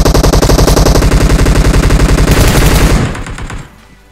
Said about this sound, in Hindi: उत्तर में एक बंदे की और गोली चलने की आवाज आती है